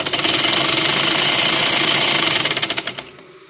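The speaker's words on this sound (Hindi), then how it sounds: "ये देखिए, इसके ऊपर ही हम सिलाई लगाएंगे।" A sewing machine stitches a decorative design onto a trouser cuff, a rapid loud mechanical rattle of needle strokes that slows and fades at the end.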